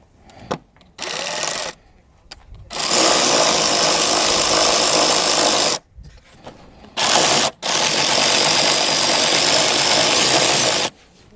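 A power tool tightens down the engine air filter box on a Toyota Highlander, heard as loud, sustained mechanical whirring in several bursts of a few seconds each, with short pauses between them and no talking.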